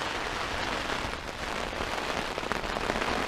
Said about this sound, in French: par contre l'orage commence à se rapprocher